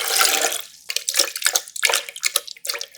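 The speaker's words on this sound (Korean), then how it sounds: "믹서기에 남은 물 넣고" Water sloshing and splashing as leftover water is swirled around a blender jar to rinse it, irregular bursts of trickling and pouring close by with short gaps.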